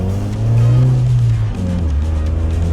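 Suzuki Jimny accelerating hard from a traffic light, a close, loud engine whose pitch climbs, then dips briefly as the gear changes before pulling on steadily.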